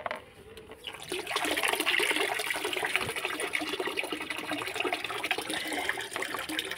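Water pours and splashes into a small bucket as it is mixed in for rooftop plants, a steady close gushing that rises after a quiet start and continues throughout.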